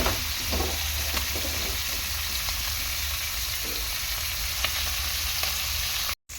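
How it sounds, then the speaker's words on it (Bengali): Small fish fry in hot oil in a wok, giving a loud, continuous sizzle and crackle throughout with no one speaking. "মাছটা ভালো করে উল্টে পাল্টে ভেজে নেব।"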